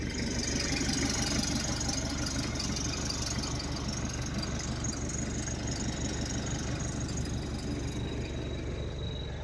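An excavator's hot diesel engine idles steadily close by, a continuous low rumble with a faint rhythmic knock, no voices.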